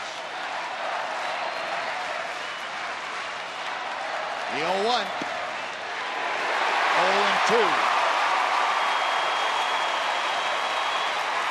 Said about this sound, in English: The crowd ratcheting up an noise.